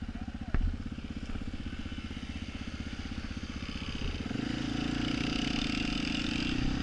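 A Yamaha TTR dirt bike engine drones steadily on a ride through the bosque, a low pulsing thrum that swells slightly louder toward the end, with one sharp bump early on.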